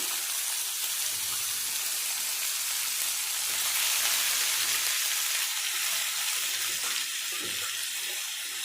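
Ridge gourd peels hit hot oil with dried red chillies, giving a steady, close hiss of frying that holds throughout with a few soft stirring knocks.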